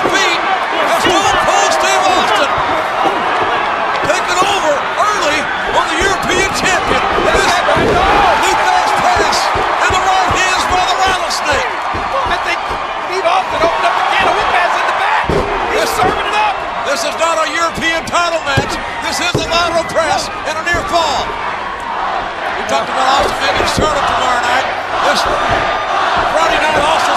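A wrestling arena crowd on its feet during a Stone Cold Steve Austin versus William Regal match, a loud, continuous roar of cheers and shouts with sharp impacts and a commentator talking over it.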